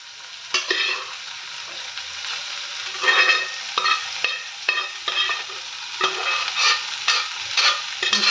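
Cooked rice is stirred into chitranna in a hot pan, giving scraping, tossing strokes that come in irregular bursts with a light sizzle underneath, close and fairly quiet.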